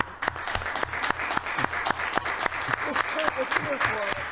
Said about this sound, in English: a round of applause is appropriate